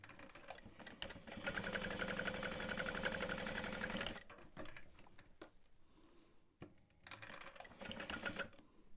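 A sewing machine topstitches a tote bag strap at 1/8 inch, running steadily and loudly for about four seconds, pausing with a few small clicks, then whirring again briefly near the end.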